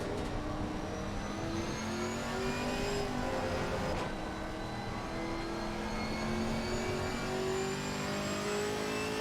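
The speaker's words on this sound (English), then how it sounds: "Okay, Johnny, there's a faster car approaching." A race car engine in a video game at Misano drones continuously at moderate volume, its pitch slowly rising and shifting with a faint extra engine tone of a faster car passing by.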